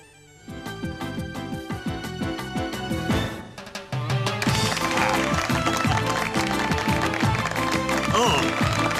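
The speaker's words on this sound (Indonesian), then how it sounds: "Ayo, tepuk tangan semuanya." An audience at an evening show claps for a new singer, a burst of applause that swells over lively music and continues steadily, with a voice speaking over it.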